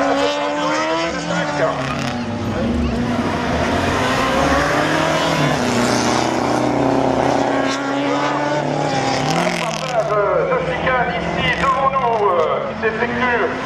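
A slalom race car speeds around the Neufbourg course in 2017, its engine revving loud and continuous with shifting pitch, while an announcer talks over it the whole time.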